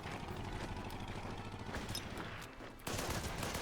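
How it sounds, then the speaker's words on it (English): Artillery and gunfire in the Order of Battle war strategy game: dense rattling bursts of shots and booms, loud and continuous, with a heavy blast near the end. "That artillery is really draining us."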